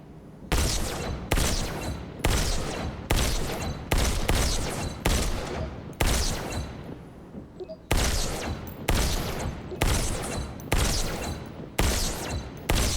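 Pistol shots ring out in Robo Recall, a VR game, in a steady run of about a dozen loud, evenly spaced blasts, each with a sustained decaying tail.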